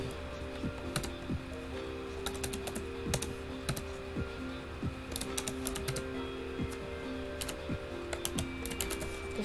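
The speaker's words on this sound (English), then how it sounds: "I just hear the clicky sounds in my keyboard now" Clicky computer keyboard typing close by, with rapid irregular bursts of sharp keystrokes and brief pauses continuing throughout, and no talking over it.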